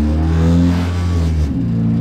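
A Mazda Miata engine with no muffler revs hard and loud close by, a deep rumbling roar that holds for a moment and then drops back as the throttle closes.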